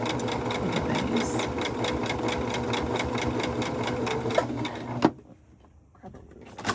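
A sewing machine stitches a rope bowl in a steady, rapid mechanical patter that runs close and loud for about five seconds, then stops abruptly, leaving near quiet.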